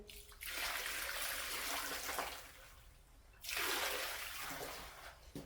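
Water is poured into a tray of sand and cement mix for a screed, giving two sustained splashing, rushing pours separated by a short pause, close and fairly loud with no talk.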